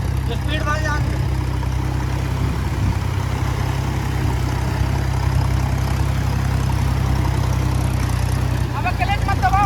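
Tractor engine running steadily with a continuous low diesel drone, while voices talk over it at points.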